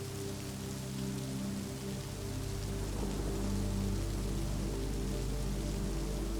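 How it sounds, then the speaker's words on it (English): Heavy rain pours steadily in a dense, continuous hiss, with a low constant rumble beneath and no voices. "the rain becomes heavier and the rumbles of thunder more frequent."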